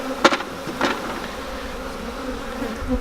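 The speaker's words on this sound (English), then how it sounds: "there's thousands of bees swarming around here, just doing their thing" Thousands of bees swarm around a beehive, a dense continuous buzzing heard up close, with a couple of louder passes as single bees fly right by the microphone.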